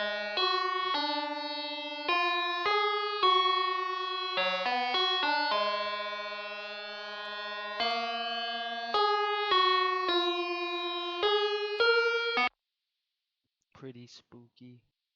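A bright, buzzy synth lead for a dark Memphis phonk beat plays a stepping melody of sustained notes for about twelve seconds and then stops, followed by a moment of silence and a short bit of speech.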